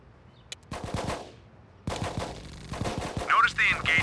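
Gunfire in the Xbox game Full Spectrum Warrior: rapid automatic bursts with sharp repeated cracks, a lull, then another longer volley, with faint game chatter under the shooting.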